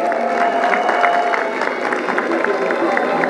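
Crowd at a grand political rally in Aboisso applauding on request, a dense, continuous patter of many hands with some background voices, steady and fairly loud for a few seconds.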